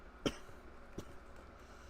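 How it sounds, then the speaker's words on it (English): A single sharp cough, followed a moment later by a softer second cough, close and otherwise quiet. "not now I'm coughing"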